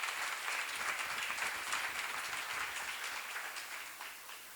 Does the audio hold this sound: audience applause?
yes